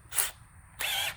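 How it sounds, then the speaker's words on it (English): Short bursts of a power drill fitted with a 3/8 bit, two brief whirring spurts separated by a pause, close and fairly quiet. "But I'm gonna use a 3/8 drill bit, and then these are 5/16 right here."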